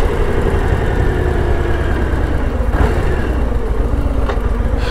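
A Harley-Davidson Low Rider ST with a Milwaukee-Eight engine in a Softail chassis idles close by, a loud, steady low rumble throughout with no talking.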